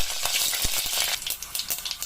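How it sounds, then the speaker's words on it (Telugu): Garlic cloves frying in hot oil with mustard seeds spluttering for a traditional Telugu pappu (dal), a dense crackling sizzle broken by a few sharp pops, close and steady throughout with no voices. "ఆవాలు చిట్టుపట్టలాడుతుంది కదా, ఇప్పుడు ఇందులోకి తీసి పెట్టుకున్న వెల్లుల్లి రెబ్బలు"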